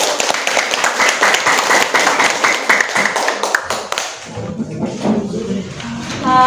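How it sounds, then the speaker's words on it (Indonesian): A classroom of students claps together for several seconds, a dense, close patter of many hands that thins out and gives way to quieter room murmur and movement. "Oke, kasih tepuk tangan dulu."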